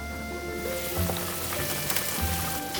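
A large pot of potato pork bone stew with pork spine bones bubbles after forty minutes of simmering, a steady close sizzling and popping boil with small splashes once the lid comes off, and no talking.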